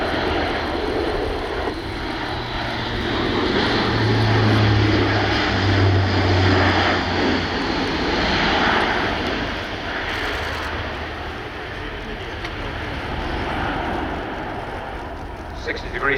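Airbus A400M Atlas military transport flying a display at RIAT on a rainy day, a loud, steady turboprop drone with a low propeller hum swelling and easing, heard under a commentator's voice.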